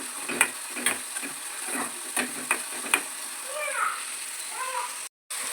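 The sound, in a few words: onions frying in a pan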